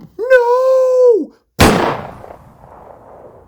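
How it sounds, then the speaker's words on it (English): A single gunshot in a dramatic audio story, one sharp loud blast with a trailing rumbling decay, coming right after a drawn-out shouted cry from a voice. "A gunshot was heard"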